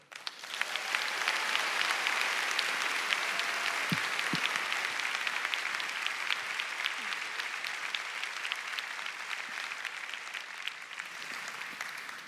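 Sustained applause from a large audience, steady dense clapping that carries on for several seconds and gradually thins slightly toward the end.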